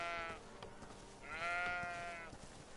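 A ram in the fantasy game Greedfall bleats twice, two wavering, nasal calls at moderate volume with a pause between, over soft ambient game sound and faint talk.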